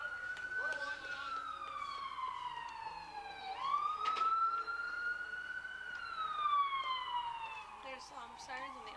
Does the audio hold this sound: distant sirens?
yes